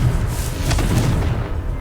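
A Confringo fireball spell from Hogwarts Legacy bursts in a loud, low, rumbling blast that roars steadily throughout.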